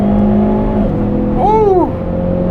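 A Hyundai Veloster N with an 8-speed dual-clutch gearbox accelerates on a track with overboost engaged, its engine droning loud and steady with a rising, sweeping whine as revs climb.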